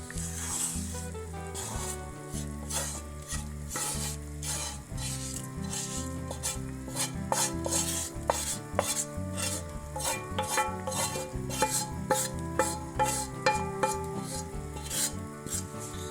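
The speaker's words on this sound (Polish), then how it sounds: "teraz dodajemy naszą cebulę" Chopped onion added to a pot for smoked-rib beetroot soup, sizzling steadily while a utensil stirs and scrapes against the pot in quick repeated clinks and rasps, close and alone without speech.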